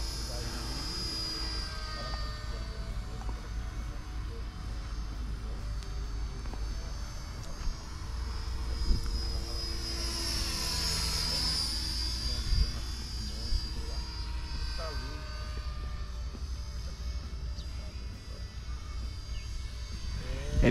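A radio-controlled model helicopter in flight outdoors, its rotor and motor whining steadily at moderate distance with shifting pitch as it climbs and turns, while people talk over it.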